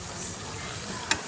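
Chicken or mutton liver sizzling in hot oil in a pan for a liver pepper dry, a steady close crackling hiss with one sharp tick near the end.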